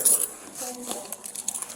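A bunch of keys jingles close by in a short metallic clink and rattle during a police encounter, with a voice faintly present.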